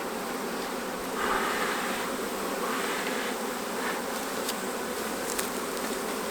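Package honey bees, workers with a few drones, buzz loudly and steadily as they are installed in a hive, a dense, close, continuous hum with no voices.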